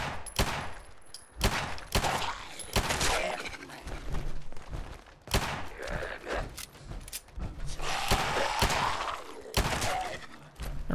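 Magnum rounds fire in Fallout 4, a string of sharp, loud individual gunshots spaced irregularly, each with a short ringing tail.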